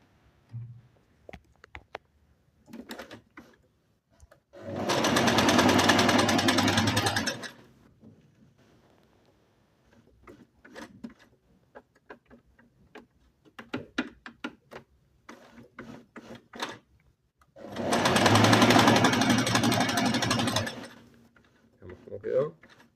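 A Singer Inspiration sewing machine runs in two loud bursts of steady motorized stitching, sewing a decorative seam, with a person talking quietly between the runs.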